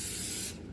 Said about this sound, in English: what we're gonna do is we're gonna spray this down